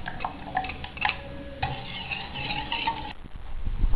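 A spoon stirs a paste into boiled milk in a pot for rasmalai, with scraping and clinking of the utensil against the vessel and soft liquid sloshing, fairly close.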